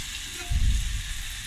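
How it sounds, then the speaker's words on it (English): Steady bubbling sizzle of frying in hot oil, swelling into a louder crackling hiss as stiff murukku dough drops into the pot. "she's placing the dough directly into the frying pan, the pot."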